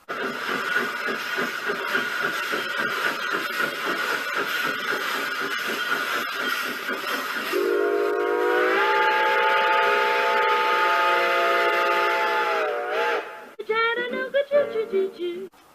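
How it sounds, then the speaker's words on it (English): The Flying Scotsman steam locomotive chuffs rhythmically, then sounds a long, sustained whistle that shifts pitch. The whistle breaks off into shorter blasts near the end. "it's a Flying Scotsman."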